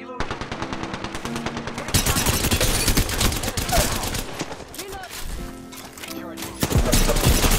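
Rapid automatic gunfire in Apex Legends fires in loud, dense bursts with brief pauses, mixed with game effects and occasional talk.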